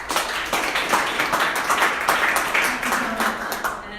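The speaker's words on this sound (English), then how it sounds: "Let's give her a round of applause." An audience at a veterans' organization event applauds a guest speaker with a few seconds of dense, steady clapping, partly under a voice.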